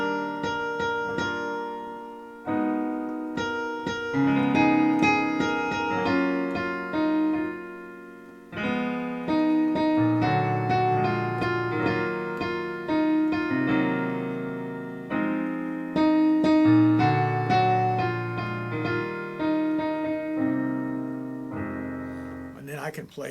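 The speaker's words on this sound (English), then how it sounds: "of course, you'll want to learn these fancy chords because then it'll sound like" Rich, extended chords ring out one after another across the clip at a steady loud level, each voicing stacked and sustained, with brief gaps between phrases and no voices.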